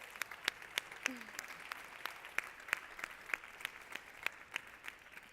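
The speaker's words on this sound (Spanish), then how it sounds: "Rogaría un aplauso para ellos, por favor." Sparse, faint hand claps ring out at a European cities conference panel welcoming mayors, a thin, steady series of separate smacks from a small audience in a quiet room.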